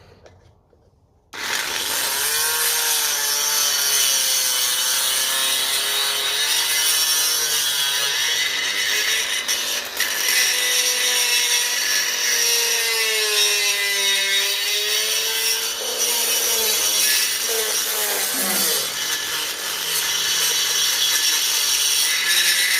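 Close, continuous power drill whirring for about twenty seconds with its bit slipping and spinning in the chuck while working on a 1957 Ferguson FE35 TVO tractor, with a steady grinding, rubbing tone that wavers slightly in pitch.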